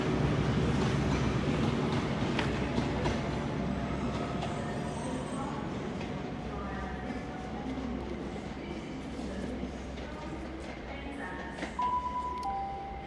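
A Great Western Railway HST Castle set with power car 43158 rumbling through Exeter St Davids station, a steady low drone with faint rail clatter, close and continuous.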